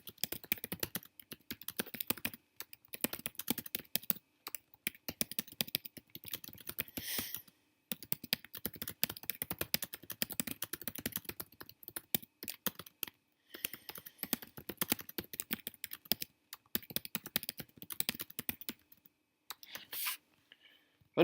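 Rapid, steady typing on a computer keyboard, close and fairly quiet, with bursts of clicking keys broken by a few brief pauses and no talking.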